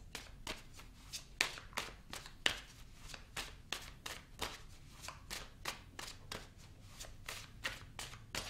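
Tarot cards being shuffled in steady, crisp bursts roughly every half second, close and fairly quiet, with no voice over them.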